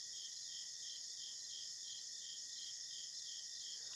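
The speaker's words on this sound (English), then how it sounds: "those crickets would put me to sleep." Crickets chirp steadily outdoors at night, a continuous pulsing trill that stays level and fills the whole stretch with no voices over it.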